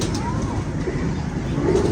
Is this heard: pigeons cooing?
yes